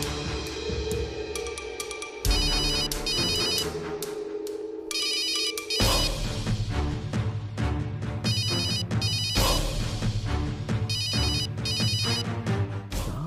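A phone ringtone plays loudly and steadily, a repeating electronic melody with a bright chiming pattern cycling through the whole stretch.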